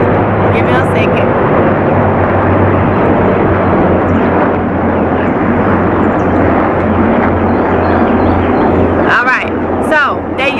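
An aircraft passes overhead above a vegetable garden as a loud, steady roar with a low hum that fills the whole stretch, and a few brief chirps come near the end.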